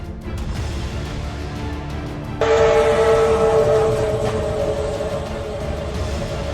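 A train nears a level crossing: low rumbling noise at first, then a loud sustained horn blast cuts in and holds for a couple of seconds before easing back into the rumble.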